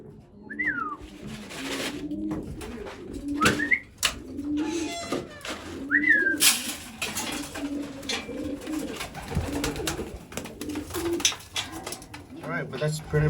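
Racing pigeons cooing at their loft, several soft repeated coos and a few whistled calls spread through the clip, close by, with faint voices in the background.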